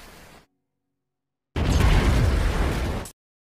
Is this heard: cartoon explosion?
yes